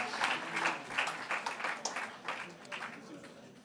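An audience applauds at a political speech in Paris, a dense patter of many hands that stays steady and then tapers off, moderately distant, with a voice speaking over it.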